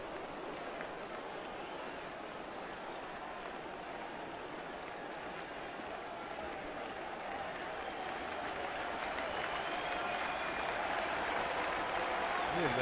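Sellout baseball crowd at a Cleveland at Toronto game, on its feet and cheering in a continuous roar that swells slightly toward the end, with no commentary over it.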